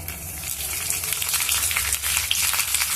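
Seeds, dried red chillies and curry leaves frying in hot oil for a ridge gourd chutney give a continuous crackling sizzle, close and loud, with no voices over it.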